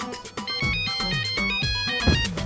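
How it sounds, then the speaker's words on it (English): A phone's text message alert plays a short melodic ringtone of bright repeated tones over a busy cartoon soundtrack, loud and up front for a couple of seconds. "got a text message for next delivery"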